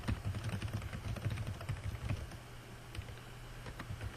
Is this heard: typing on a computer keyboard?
yes